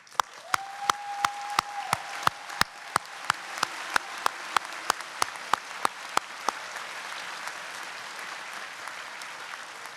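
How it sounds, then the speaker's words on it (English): Graduation audience at a technical college ceremony bursting into sharp, steady applause, with individual claps rhythmic and distinct at first before merging into a dense, sustained wash of clapping from the crowd. "Please join me in applause."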